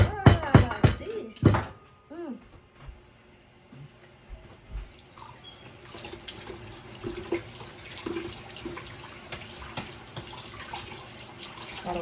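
Tap water runs and splashes into a kitchen sink while cooking, a steady low wash broken by a few sharp clatters at the start, faint and continuous in the background.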